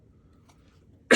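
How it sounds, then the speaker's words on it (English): One short, close cough breaks a near-silent room right at the end. "Man, cough is coming."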